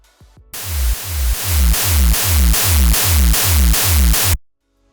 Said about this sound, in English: you can just take some white noise, put it under the same group, and under this group we begin to distort it